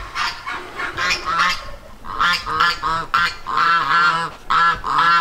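Geese honk loudly and close by on a farm, with a turkey among the birds. Rapid overlapping nasal calls come in bursts separated by short gaps, and no one speaks.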